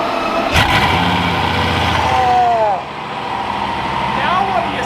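A Bugatti Veyron quad-turbo engine revving close by, a loud, rising and falling mechanical drone with a brief dip partway through, while people talk over it throughout.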